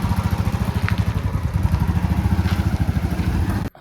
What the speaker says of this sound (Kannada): ನಾನೀಗ ಸಾತ್ವಿಕ್ನ ಬೈಕ್ ಹಿಡ್ಕೊಂಡು ಹೋಗ್ತೀನಿ